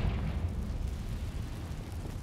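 A Confringo fire spell bursting in Hogwarts Legacy, a short loud rumbling explosion that fades over about two seconds.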